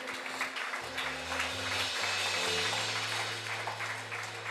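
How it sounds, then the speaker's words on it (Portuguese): A church congregation applauds in praise during an evening service, steady clapping underneath sustained low organ or keyboard chords. "Dá uma salva de palmas ao Senhor."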